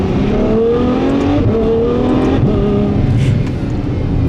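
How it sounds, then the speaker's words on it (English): A 2017 Ferrari F12 Berlinetta engine revs loudly and steadily, its exhaust note rising and falling in a continuous, musical drone with no talking. "the exhaust note was just brilliant. I mean, it sounds musical"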